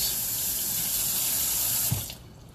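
Leeks are washed under steadily running water at a kitchen sink, a soft continuous stream that cuts off near the end with a small splash.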